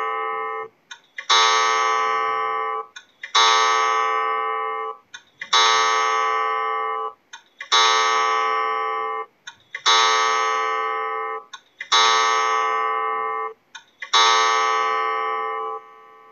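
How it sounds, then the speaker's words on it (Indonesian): A bell rings in repeated strikes, seven rich resonant tones each about two seconds apart, every strike decaying before the next lands, loud and steady with no voices, evoking church bells. "Suara suara lonceng gereja ya"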